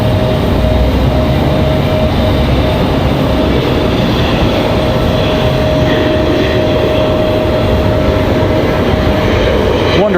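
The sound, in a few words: Delta airliner arriving from Boston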